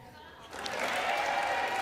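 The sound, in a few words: applause for Nancy Pelosi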